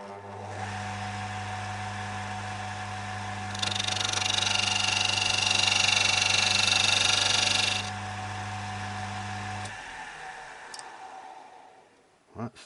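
A wood lathe hums steadily while a parting tool cuts a shallow border into a wooden captive sphere, and a brighter scraping hiss rises for about four seconds mid-run before the machine spins down near the end.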